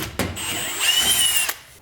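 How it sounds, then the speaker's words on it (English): A stepped drill bit bores a hole in the exhaust of a modified Subaru to fit a wideband O2 sensor bung, the power drill whirring steadily and close for under two seconds with a rising screech as the bit cuts. "So I'm gonna start drilling and getting ready to weld it in."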